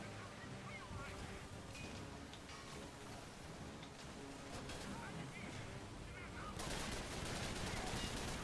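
Rapid gunfire bursts from the Call of Duty 3 video game crackle under heavy wind-like noise and roaring background, growing louder and denser near the end, with a voice talking at times.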